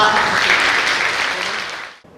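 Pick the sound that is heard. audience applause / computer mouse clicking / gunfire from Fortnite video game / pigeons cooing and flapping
audience applause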